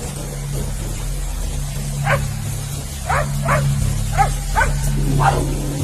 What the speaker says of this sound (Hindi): भौंकने और रोने की आवाजें सुमित को परेशान किए जा रही थी